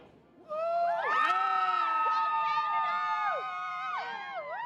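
Fans in a bar erupt in loud, close cheering and shouting that holds steady for several seconds, with excited voices rising and falling throughout.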